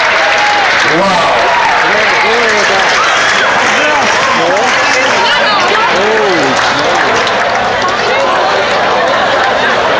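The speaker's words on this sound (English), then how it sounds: "give him a nice round of applause" A crowd at a pierogi eating contest claps loudly and steadily, with shouting, whooping and babbling voices layered over the sustained applause for the whole stretch.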